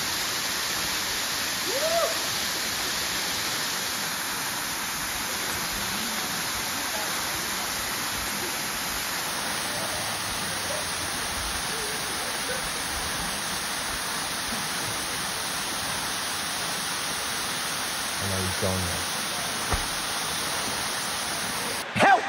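Steady broadband rush of a jungle waterfall near Minca, Colombia, continuous and fairly loud throughout, with a few faint voices and brief knocks briefly rising above the water noise.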